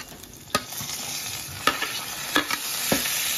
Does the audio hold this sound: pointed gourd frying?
yes